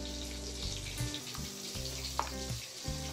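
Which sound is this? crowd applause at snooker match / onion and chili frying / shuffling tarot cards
onion and chili frying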